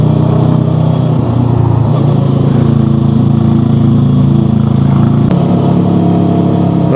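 A motorcycle engine laboring up a steep mountain road toward Baguio drones loud and close, a constant heavy hum with slight shifts in pitch as it strains, a brief click near the end.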